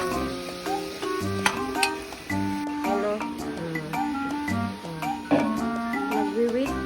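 Chicken liver, or liver, sizzles and is stirred in a pan with malunggay (moringa) leaves, a steady frying crackle under a busy background of music-like tones and a voice talking over it.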